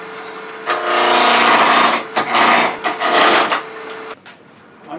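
A lathe tool cutting a persimmon wood egg gives a loud, raspy scraping whir in long bursts separated by short breaks, then drops away near the end.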